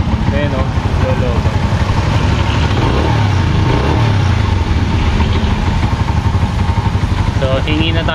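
Modified Honda TMX 125 Alpha motorcycle, mud-soaked after a flood, running with a continuous rough engine drone close by while people talk over it.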